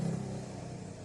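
A motorcycle passes outside in the early morning, heard as a faint, steady engine drone with a low hum underneath, brief and distant.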